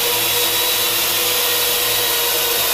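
Loud, steady whirring of a Parrot AR.Drone quadcopter's small rotors, a dense fan-like roar that stays constant and close throughout.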